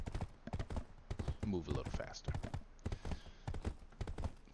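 Horse hooves clip-clopping in the Black Desert Online game, a rapid steady rhythm of close, sharp knocks running throughout, mixed with someone talking over it.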